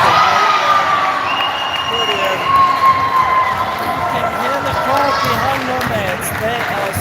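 Crowd shouting and cheering in a gym at a volleyball semifinal, a loud, sustained roar of many voices, with individual yells rising above it and a commentator talking throughout.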